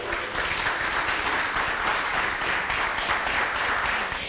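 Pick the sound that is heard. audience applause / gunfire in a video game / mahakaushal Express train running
audience applause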